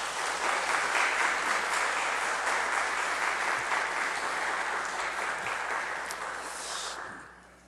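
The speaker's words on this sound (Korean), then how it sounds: "우리 목사님 나오실 때에 큰 박수로 이렇게 맞이해 주십시오." A church congregation applauds loudly and steadily as the pastor comes forward at a Sunday worship service, a dense wash of clapping that holds for about seven seconds before tapering off at the end.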